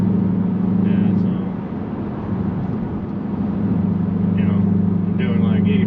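A Ford Mustang GT with a 10-speed automatic cruises at moderate speed in high gear, its engine a steady low drone with road noise throughout, while a person talks over it.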